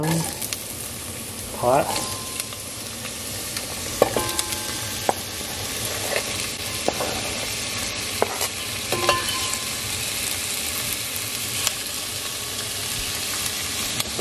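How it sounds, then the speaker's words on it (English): Onions fry in hot oil in a pan, a loud, dense, continuous sizzle close by, with scattered scrapes and knocks as they are stirred and a voice briefly speaking over it. "go ahead and add your onions to the pan"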